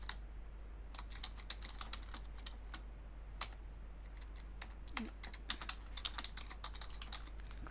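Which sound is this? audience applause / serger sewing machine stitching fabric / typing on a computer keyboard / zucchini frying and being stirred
typing on a computer keyboard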